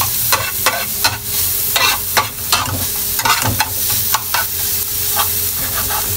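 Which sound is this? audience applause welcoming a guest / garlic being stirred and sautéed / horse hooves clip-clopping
garlic being stirred and sautéed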